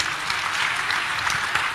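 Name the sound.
audience applause at a roadshow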